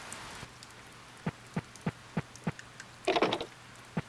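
Rain in the Harvest Moon: Save the Homeland farming game, a soft steady patter with a series of evenly spaced drop-like taps and a brief louder splashing burst, faint and alone with no voices.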